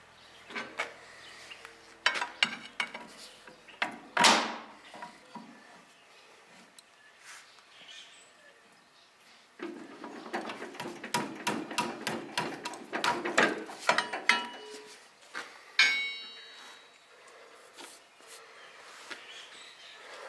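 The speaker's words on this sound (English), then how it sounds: "Now disengage the low side and engage the high side." Power Director lever on an Allis Chalmers D Series tractor being shifted from low side to high side, a series of close mechanical clicks, ratcheting and metallic clunks in bursts with quiet gaps.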